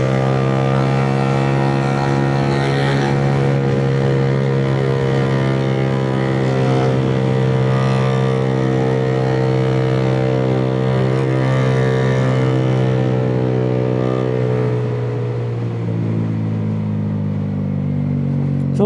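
A Honda Giorno+ 125 scooter fitted with a high-flow racing air filter accelerates steadily, its engine hum holding a strong, even drone that rises slightly in pitch before easing off near the end, close and loud throughout.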